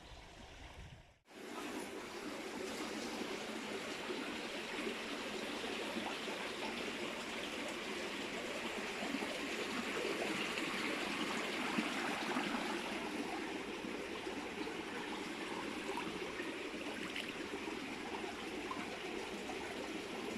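A stream flows underneath a spot outdoors, a steady broadband rush of running water that fills the whole stretch, close and continuous after a brief thump at the start.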